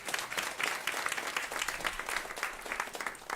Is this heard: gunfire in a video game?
no